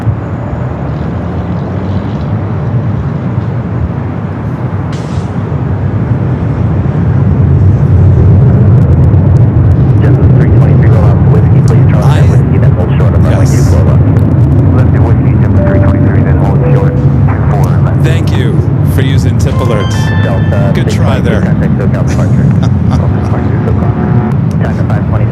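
KLM airliner bound for Amsterdam taking off from the north side at LAX airport: a loud, broad jet roar swells after a few seconds and holds steady, with a voice talking over it.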